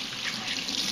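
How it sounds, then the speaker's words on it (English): Hot tap water runs steadily into a kitchen sink while hands are washed, a close, continuous hissing splash with no talking. "First and foremost, always wash my hands."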